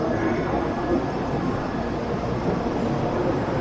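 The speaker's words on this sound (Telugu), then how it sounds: "సో ఇదే అండి మనకి బుల్లెట్ ట్రైన్ రెడీగా ఉంది" A Kyushu Shinkansen bullet train idles at a station platform in Japan, producing a steady loud mechanical hum and rumble that stays even from start to finish, with no distinct speech.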